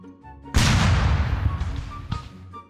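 Bomb explosion in the video game Garry's Mod, a sudden loud boom with a broad crackling roar of shrapnel that decays over about two seconds, with a few sharp secondary cracks near the end.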